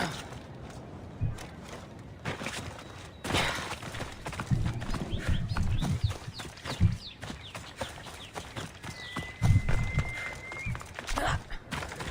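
Horse hooves clip-clop in Assassin's Creed Odyssey's Fate of Atlantis DLC, with irregular clusters of hoofbeats on hard ground, a brief whinny and background birdsong and a rooster.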